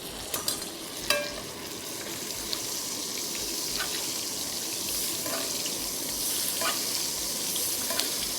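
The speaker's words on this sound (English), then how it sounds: "Now, as this is searing" Two steaks sear in a hot frying pan, giving a loud, steady, close sizzle that fills the whole stretch, with a few brief clinks and shifts near the start.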